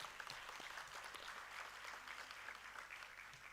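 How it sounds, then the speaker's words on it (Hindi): Audience applause at a yoga centre gathering for a Swami Vivekananda play, a steady, fairly distant wash of clapping from a crowd throughout. "तो तारा जी के लिए मैं फिर से एक बार जोर से तालियां बोलूँगा"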